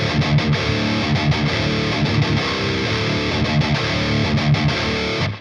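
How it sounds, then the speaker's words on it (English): Electric guitar played through the Nembrini 808 Tube Screamer overdrive plugin with a noise gate, a steady driven riff of chugging chords and palm-muted hits for about five seconds, ending abruptly. "And this is the sound of my favorite Tube Screamer plugin."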